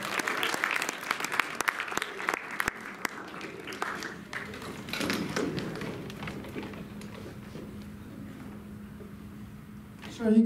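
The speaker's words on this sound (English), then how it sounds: "Let's give another round of applause." Audience applause in a high school auditorium, a steady wash of clapping with sharp individual claps that fades out after about six seconds, leaving a quieter room hum, with some talk underneath.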